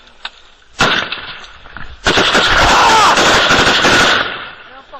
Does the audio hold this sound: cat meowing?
no